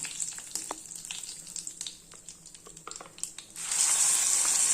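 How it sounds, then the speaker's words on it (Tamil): Ground tomato chutney hits hot oil and bursts into a loud, steady sizzle after a few seconds of light clinking and stirring. "இப்போ நம்ம அரைச்ச சட்னியை அதில் ஊற்றிக்கலாம்"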